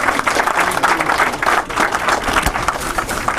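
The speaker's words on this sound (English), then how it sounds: "Big round of applause again." An award ceremony audience applauds in a loud, steady round of dense clapping that fills the room without pause for a few seconds.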